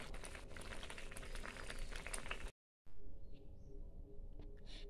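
Banana flower boiling in a pot gives a faint, steady bubbling and soft pattering. A brief silent gap breaks the sound before the quiet simmer resumes.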